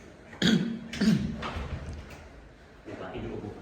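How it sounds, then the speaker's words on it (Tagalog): Two or three harsh coughs come close together early on, followed by a later throat-clearing burst, all indoors during a house tour ahead of a house blessing, with background noise throughout. "inuubo pa siya"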